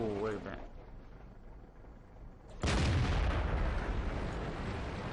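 A heavy tank gun round slams into a Caernarvon tank in World of Tanks: a sudden loud boom with a rumbling roar that lingers, after a quieter stretch of engine noise, while a voice talks throughout.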